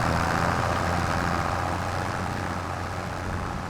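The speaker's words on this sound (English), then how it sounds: "This tractor's doing really well with the 6 metre plough on there." A tractor in Farming Simulator 25 pulling a 6 metre plough across a field, its engine giving a steady low rumbling drone, close and constant with no speech.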